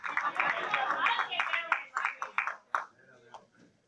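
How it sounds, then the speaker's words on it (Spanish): Hands clapping at a church service, a quick run of sharp claps that thins out and fades over a few seconds, mixed with raised voices. "Den un fuerte aplauso al Señor."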